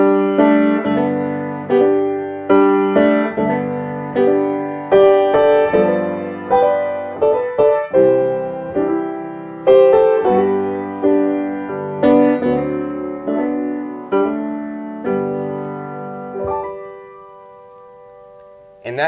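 Solo piano plays a country-style melody with a quick slip-note grace figure resolving into a high harmony line, clear and close with a sustained ringing tone and no talk.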